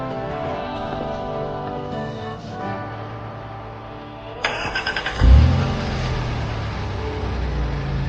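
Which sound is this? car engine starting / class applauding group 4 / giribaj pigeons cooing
car engine starting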